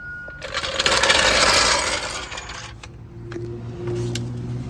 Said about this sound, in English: now I'm going to lower the jack so you can see where we put the jack stand